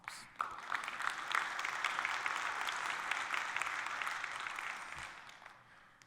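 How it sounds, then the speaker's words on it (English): Audience applause fills a civil rights lecture hall, a dense, steady wash of many hands clapping that starts abruptly, holds evenly for several seconds, then tapers off at the end. "Give yourselves a round of applause."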